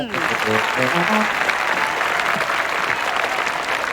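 An audience at a Thai stage show of traditional axe dancing claps loudly for the performers, dense applause sustained throughout with a few brief tonal notes at the start.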